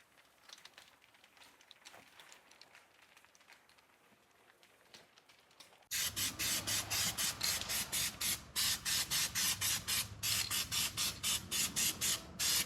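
Short, sharp hisses of an aerosol can spraying HyperDip coating onto a car wheel burst in rapid succession, loud and close, after a stretch of faint background noise.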